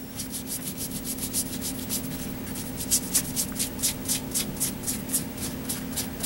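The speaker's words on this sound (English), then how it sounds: "I'm just really just rubbing it in and kind of dulling the black and adding just a tad of a rust color to it" A paintbrush rubs rust-colored paint into the dull black surface of a model tank kit, making close, steady, scratchy bristle strokes in a quick back-and-forth rhythm over a faint hum, with no speech.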